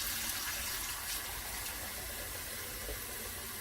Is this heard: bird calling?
no